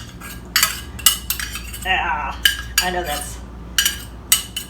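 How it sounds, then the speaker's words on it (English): A spoon scrapes canned pumpkin out into a bowl while making pumpkin chocolate chip cupcakes, giving repeated sharp metallic scrapes and clinks in short bursts, with a brief spoken comment in between. "sorry about that scraping noise."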